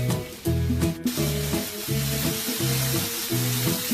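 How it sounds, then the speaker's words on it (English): Leeks and onions sizzle in olive oil in a pan, loud and close, with a steady frying hiss broken by repeated scraping stirs at a regular pace. "The leeks and the onions are starting to cook down."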